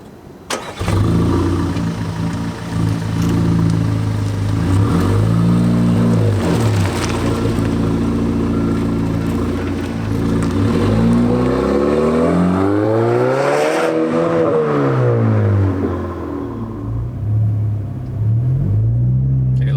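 A Stage 2 tuned Audi A4 making about 300 hp revs hard and close, its engine note climbing and falling through repeated surges of acceleration, loud and without talk.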